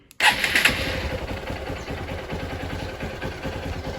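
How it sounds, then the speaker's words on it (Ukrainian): A Honda XR150L motorcycle engine catches after a brief crank on cold-start choke and settles into a steady, fairly loud idle, with no voices. "Ось завели. Двигун нормально працює."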